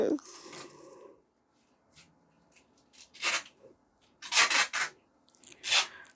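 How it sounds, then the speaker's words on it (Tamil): Scissors cut through kurta fabric in short rasping snips, a few quick bursts separated by pauses, close up, after a brief stretch of speech at the start. "அப்போ உங்களுக்கு காட்டுறதுக்காண்டி தான் கட் பண்ணுறேன்"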